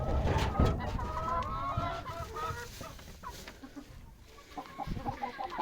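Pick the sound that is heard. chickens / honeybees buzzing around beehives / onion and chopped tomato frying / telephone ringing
chickens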